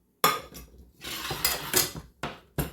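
A newly acquired secondhand skillet is handled on a stovetop, giving several sharp metallic clanks and scrapes spread over a few seconds, close and fairly loud, with no talking.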